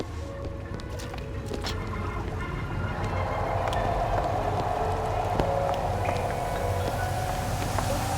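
Birds chirp and peck at scattered seeds in the video game Bioshock Infinite: Burial at Sea. Scattered short calls and chirps sound early on, then settle into a steady, moderately quiet ambient bed with no one talking.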